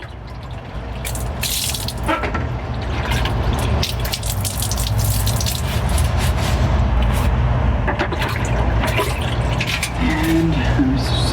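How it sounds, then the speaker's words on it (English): Running tap water pours steadily over a rough, dirty part from a Bolens 11A B0BL765 mower as it is rinsed off, a continuous close gushing and splashing with a few brief knocks. "quickly rinse it off."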